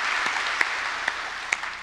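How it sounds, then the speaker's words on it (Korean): A church congregation applauds during a Sunday worship service to welcome new members. The clapping is dense and continuous, fills the room, and holds steady throughout, with a few sharper individual claps standing out. "우리 박수로 한번 환영하도록 하겠습니다"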